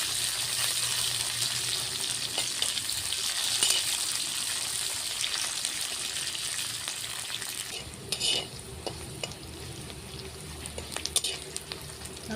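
Chopped capsicum, carrot and chilli fry in a pan, giving a steady close sizzle broken by scraping stirs and a few utensil clinks partway through, with no voices.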